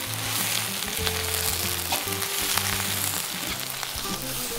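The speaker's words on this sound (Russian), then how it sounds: "Первым делом вступает лук. Обжариваем его до золотистой корочки." Onion fries in a kazan with a loud, steady sizzle that runs on without a break, close up and with no voices.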